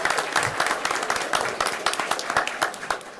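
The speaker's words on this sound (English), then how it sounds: "Everybody give him a big round of applause." An audience at a school board meeting claps in a brief, steady burst of applause, fairly close and continuous, with no voices over it.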